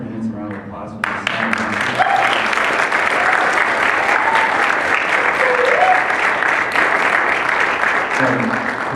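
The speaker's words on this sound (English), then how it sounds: "Let's just give our candidates a round of applause for this." An audience at a student government presidential debate breaks into loud, steady applause after a brief spoken moment, dense clapping holding for about eight seconds with faint vocal tones underneath.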